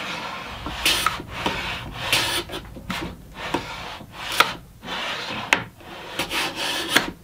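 A hand plane shaves wood on a shooting board in a series of short rasping strokes, about a dozen close swishes in uneven rhythm separated by brief pauses.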